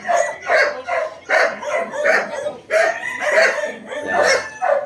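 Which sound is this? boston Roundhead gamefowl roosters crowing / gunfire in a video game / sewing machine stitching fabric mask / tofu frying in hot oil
boston Roundhead gamefowl roosters crowing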